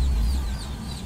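Mother hen with newly hatched chicks in a rural backyard coop, clucking softly and continuously at close range over a low rumbling background, with no talking.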